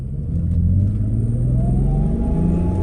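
A turbocharged car in manual first gear, accelerating while misfiring on three cylinders with reduced power, makes a loud, steady, close rumble with a slowly rising engine tone.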